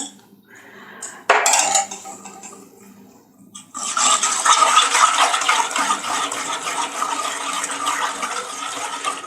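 A whisk stirring cake batter in a metal pot, with a sharp clank near the start and then a sustained, fairly loud scraping and rattling rhythm that continues to the end.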